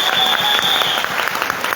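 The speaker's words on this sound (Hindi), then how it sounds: "मैं चाहूंगा एक बार बिहार के लिए जबरदस्त ताली हो।" At a business seminar in Begusarai, an audience bursts into loud, dense applause, many hands clapping at once in a steady roar that fills the hall.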